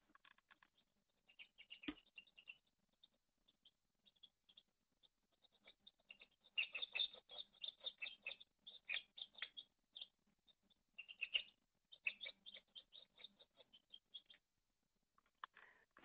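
Recorded mouse vocalizations, slowed down into the human hearing range, play back from a speaker as faint, thin chirps and squeaks. They come in irregular bursts and clusters over quiet, picked up by a phone held close to the speaker.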